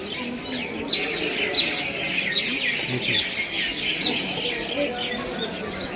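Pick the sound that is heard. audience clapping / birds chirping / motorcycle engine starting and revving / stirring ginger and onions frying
birds chirping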